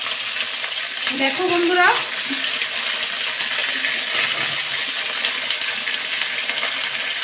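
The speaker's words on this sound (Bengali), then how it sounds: "আমি আগে থেকে কেটে রাখা ফুলকপি, কুমড়ো, মটরশুঁটি সব ভালো করে ভেজে নেব" Cauliflower, pumpkin and peas fry in a pan with a constant bright sizzle and hiss close by. A voice speaks briefly near the start.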